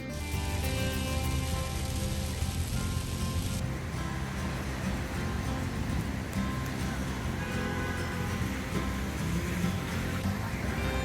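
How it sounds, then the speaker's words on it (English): Heavy rain falls steadily at a barbecue spot in Houston, a dense unbroken hiss with a constant low rumble underneath, like traffic, and no clear talk. "it's raining pretty heavily here."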